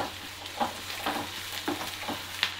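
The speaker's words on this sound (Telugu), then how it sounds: "ఒక స్పూన్ అల్లం వెల్లిగడ్డ పేస్ట్. మంచిగా ఫ్రై కావాలి" Ginger garlic paste sizzling and frying in a pan as it is stirred, with a steady hiss and a few scraping stir strokes; no talking.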